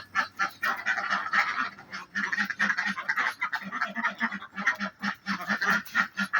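Ducks quack in a loud, continuous chorus, many birds honking and chattering over one another close by with no pause.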